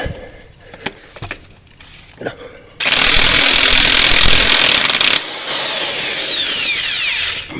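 Borrowed electric impact wrench taking off the harmonic balancer bolt on a front-wheel-drive car, a loud continuous whirring rattle for a couple of seconds and then a lower sustained whine, after a few quiet clicks and knocks.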